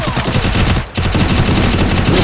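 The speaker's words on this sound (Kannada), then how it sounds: "UMP ಅಂದರೆ ನನ್ನ ಫೇವ್ರೆಟ್ ಗನ್ನು, ಯಾಕಂದರೆ ಅದು ಲಾಂಗ್ ಶಾರ್ಟ್ ರೇಂಜಲ್ಲಿ ಭಾರಿ ಶೂಟ್ ಆಗುತ್ತೆ" UMP submachine gun fire in the mobile game Free Fire: loud, rapid automatic bursts with a brief gap near the middle, then sustained fire, with no voices.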